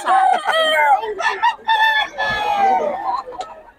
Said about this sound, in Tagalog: Diyan na pala manok si Boss Berry